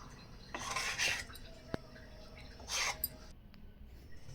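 A spoon scrapes and clinks against a bowl as gobi manchurian batter is mixed, with soft, close, irregular stirring and a few sharp taps over a quiet room hum; no one speaks.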